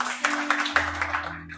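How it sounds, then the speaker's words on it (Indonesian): Audience clapping during a church service, several distinct claps ringing out under a sustained keyboard tone, near and moderately loud, thinning out after a second. "Beri tepuk tangan buat Pak Musa."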